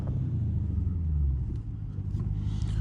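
A Dodge Hellcat's engine rumbling as the car is driven through snow, a deep, steady, close low drone with slight shifts in pitch.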